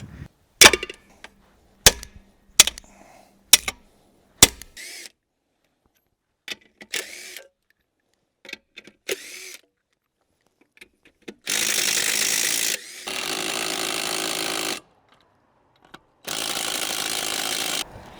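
A power tool spins a stuck nut without gripping, giving sharp ratcheting bursts and clicks early on, then longer steady whirring runs later, close and loud.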